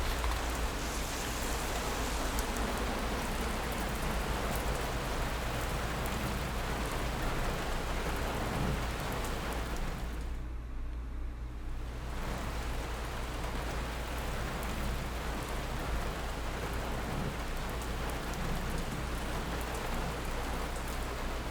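Steady rain pours during a storm on a deserted island in a Moomin cartoon, a dense continuous hiss that briefly drops out midway and then returns.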